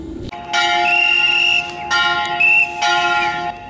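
Church bells ring out close and loud, several bright metallic strikes with sustained humming tones that overlap and fade between peals.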